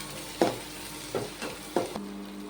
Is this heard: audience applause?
no